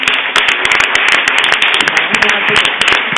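An audience at a cultural olympiad final breaks into loud, sustained applause, dense overlapping clapping from a large crowd filling the room at a steady level.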